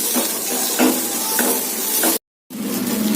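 Dried red chillies frying in a pan for carrot chutney, a steady close sizzle with a few stirring scrapes, cut off by a brief silence before the frying resumes.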